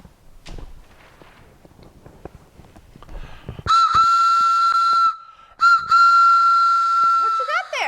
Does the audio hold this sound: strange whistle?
yes